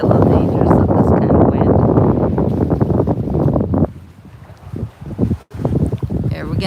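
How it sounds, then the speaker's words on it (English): Strong wind at a beach buffets the microphone with a loud, steady roar of wind noise, easing and gusting in the last few seconds. "Wow, it's pretty windy over here."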